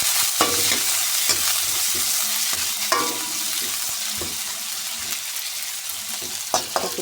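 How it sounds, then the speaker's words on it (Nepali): Sukuti, dried meat, fries in a pan with a constant hiss, broken by repeated sharp scrapes and clacks of stirring at an uneven pace, close and fairly loud. "सुकुटी मजाले भुट्ने"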